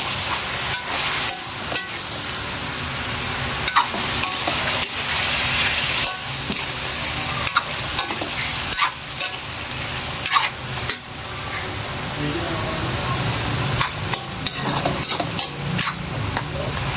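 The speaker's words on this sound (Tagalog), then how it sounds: "kailangan natin haluin para lumasa" Catfish stew being stirred in a pot, a steady scraping and swishing of the spoon over a continuous simmering sizzle, close and fairly loud throughout with no talk.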